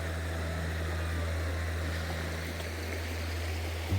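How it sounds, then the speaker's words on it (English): A creek runs full and fast, giving a steady, soft rushing of flowing water close by, with a low constant hum underneath it and no voices. "we got down to the creek, and as you can see, it's flowing pretty good right now"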